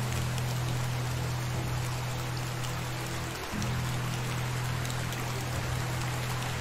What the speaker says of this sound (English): There's a creek very close by.